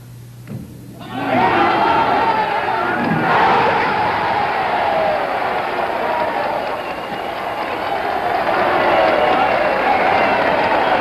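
A crowd at a televised 1991 bowling tournament erupts after the perfect game that wins $10,000 and a new Cougar: a loud, sustained roar of cheering and applause that swells within the first second and holds steady to the end.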